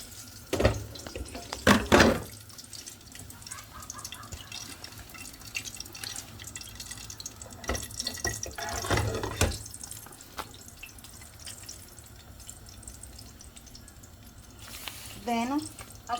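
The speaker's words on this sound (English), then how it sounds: "then I'm gonna throw a bit of hot water from the kettle" Hot water from a kettle splashes into a basin in a home kitchen, with a few short bursts of pouring and dripping between quieter stretches, and a voice talks intermittently.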